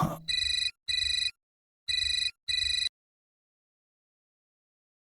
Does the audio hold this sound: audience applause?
no